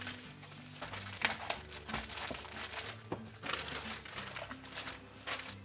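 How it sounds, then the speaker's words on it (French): Kraft paper crinkles and crumples as it is pulled off a junk journal kit package, a quiet, close run of irregular rustling bursts and crackles. "Je vais enlever le papier craft, ne le jetez pas aussi"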